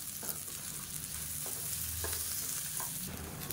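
Mint, dried red chillies and grated coconut sauté in a pan for a mushroom biryani masala. A soft, continuous sizzle plays with occasional stirring scrapes, fairly quiet and with no voices.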